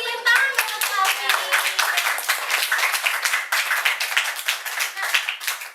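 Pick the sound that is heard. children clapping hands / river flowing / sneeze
children clapping hands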